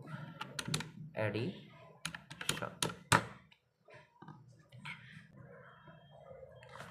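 Quick, close clicking of a computer keyboard as program code is typed, bursts of keystrokes with short pauses, mixed with faint speech.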